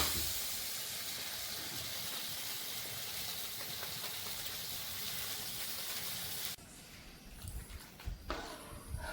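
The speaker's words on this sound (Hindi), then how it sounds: "देखिए दाल में महाराज जी ने तड़का लगा दिया है" Tadka tempering hisses and sizzles in a pot of dal cooked over a sacred dhuni fire, a steady loud frying hiss that cuts out abruptly near the end, leaving quieter crackles and pops.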